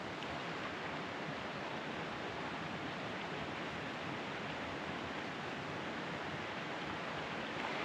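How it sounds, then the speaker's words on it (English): Steady broadband rushing of a mountain creek, constant and full throughout with no breaks, tumbling nearby. "Can you guys hear the water?"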